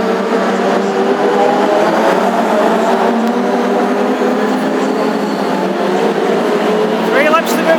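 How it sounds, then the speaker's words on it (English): Classic hot rod cars racing at Wimbledon Stadium, a loud continuous roar of engines blending into a steady rumbling drone, heard at a distance with a commentator talking over it. "Three laps to go for Darren as he begins to catch up with the rest of the field"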